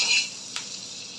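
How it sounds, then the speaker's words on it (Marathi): Butter sizzling on a flat tava griddle pan, a short bright hiss with a faint scrape of a utensil midway, close and alone. "हे बघा इथे ना बटर टाकायचं आहे मस्त"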